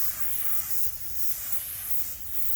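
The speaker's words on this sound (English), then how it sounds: "I'm gonna spray right at you." Steady close-up hiss of varnish being sprayed onto a teak window screen on a trawler, continuous with slight dips in strength, no voices.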